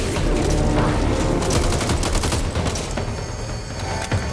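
Rapid automatic gunfire from shooting enemies in Back 4 Blood, a dense, loud continuous fusillade of overlapping shots that thins out toward the end.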